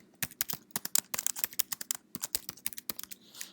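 Rapid, irregular clicks of a computer keyboard as a title is typed, close and crisp with uneven bursts of keystrokes and no talking.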